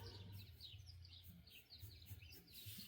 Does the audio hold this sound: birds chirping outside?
yes